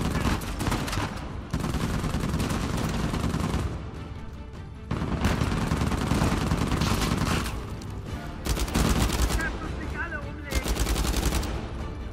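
Rifle gunfire from the video game Uncharted 4 comes in dense, loud bursts and sustained volleys, broken by short lulls, with heavy close shots throughout and no clear talk.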